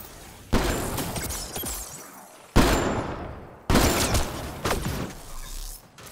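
Gunfire in the Mass Effect Andromeda video game comes as loud, sharp bursts of incoming shots and shattering impacts in several waves, close and harsh, with almost no pause between volleys.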